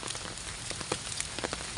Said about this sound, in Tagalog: Umuulan guys.